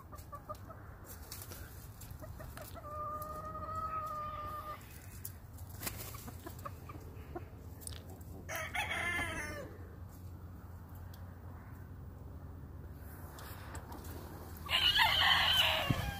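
Hens of the dark Kelso gamefowl line make short clucking and calling sounds over a steady low farmyard hum, with a brief louder burst near the end.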